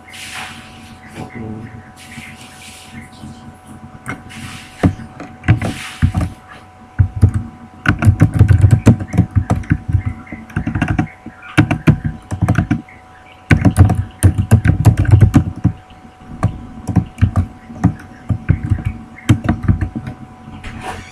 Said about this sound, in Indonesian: Kemudian ini ketik pesannya.